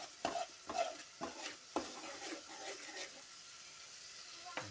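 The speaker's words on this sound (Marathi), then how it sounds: "आणि चांगला हलवून घ्यायचा." A spoon stirs spice masala in a pan for a village-style country chicken curry, giving soft scraping strokes in a loose rhythm over a faint sizzle, close and fairly quiet, with no talk.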